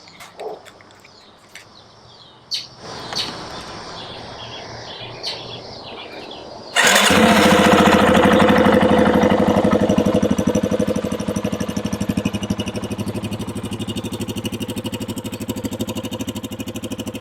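A new 2022 Yamaha XT250 motorcycle is started up: quiet handling clicks and a brief whir, then the single-cylinder engine catches abruptly and settles into a loud, steady close idle with a slight easing after a few seconds.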